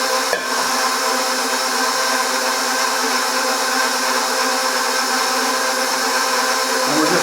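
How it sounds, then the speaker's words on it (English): Electric mixer kneading a slightly wet pizza dough with extra flour added, a loud steady motor whir running continuously without pause, with no talking. "We're just going to have a couple of minutes here while this mixes together."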